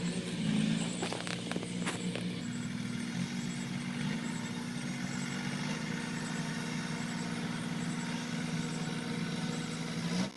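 A tractor engine runs at a steady low drone, close and continuous throughout, with faint rattling on top and no talk.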